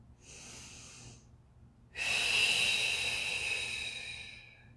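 Deep breathing during a mobility stretch, a short soft inhale followed by a louder, longer hissing exhale that fades out, close and with no talking.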